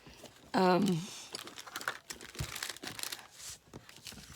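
Paper is trimmed by hand for an envelope folio, with rustling, crinkling and soft cutting or tearing sounds in short irregular bursts, close by, while someone talks over it.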